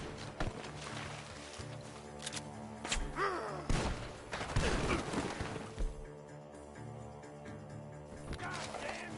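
Gunfire rings out in the video game Red Dead Redemption 2, with sharp cracks and thuds scattered irregularly over a dense bed of game sound and background noise, some shots near and loud.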